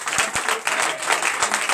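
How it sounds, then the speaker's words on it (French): A church congregation applauds during a night deliverance and prophecy service, continuous clapping with a few sharp separate claps standing out, moderately loud, and some voices under it. "je vous demande encore une fois d'applaudir."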